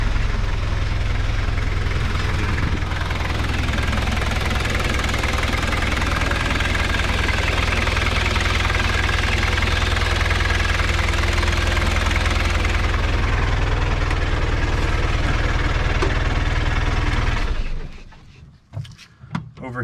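Toyota Land Cruiser BJ45 diesel engine cranking and then idling with a steady, knocking mid-range rumble, loud and close, running continuously before cutting off near the end.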